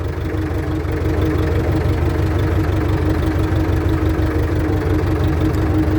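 A steady, low diesel engine of an Ursus tractor idling in freezing cold, with a continuous throbbing rumble, close by and unbroken throughout.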